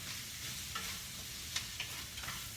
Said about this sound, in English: Into this pot, I'm going to put some garlic that I chopped up.